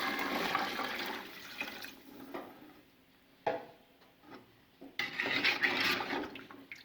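Water is poured into a cooking pot of chicken vegetable pulao, a faint splashing stream in bursts with light clinks of the pot between pours.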